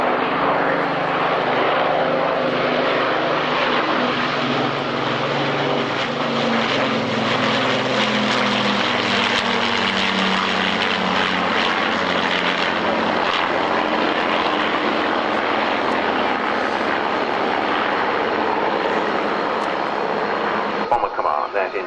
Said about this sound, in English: Here then, Lancaster and Spitfire.